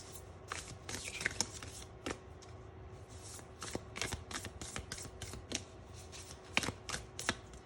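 Tarot cards being shuffled and drawn, a quiet series of crisp riffling snaps and flicks in irregular bursts, close and soft, with no talk.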